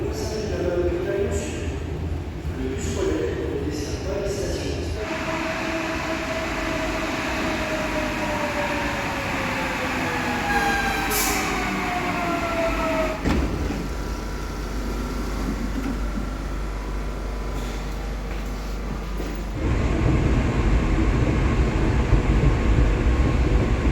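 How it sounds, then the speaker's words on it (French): Metro train in a subway station, loud and sustained, its motors whining in rising and falling tones, rumbling and clattering, with a heavier roar building near the end and faint voices underneath. "nous voici arrivés au métro."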